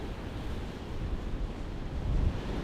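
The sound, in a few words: ocean waves crashing against the rock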